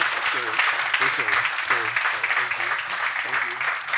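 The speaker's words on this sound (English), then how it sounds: "have a round of applause for." Audience applause after an extended interview with Assoc. Prof. Amanquah and Dr. Korsah, a steady dense clatter of clapping filling the room for several seconds, with voices talking over it.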